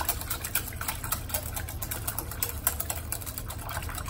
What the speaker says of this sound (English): I'm going to give it a nice whisk to sort of blend in all the ingredients.